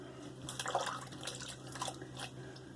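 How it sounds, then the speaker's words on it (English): Water running and dripping as a Wade & Butcher "Special" straight razor is rinsed during a shave, a soft, close, irregular splashing trickle with no talking. "close up the razor, rinse off a bit"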